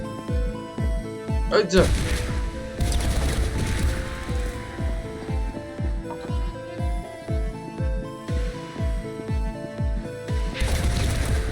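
SMG fire in the video game This Strange Realm of Mine beats in a quick, even string of hard mechanical shots, loud and close, running the whole time under a talking voice.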